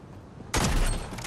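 A shotgun fires in Fortnite with a single loud, sudden blast partway through. The boom rings on with a sustained rumbling tail after a quieter lead-in.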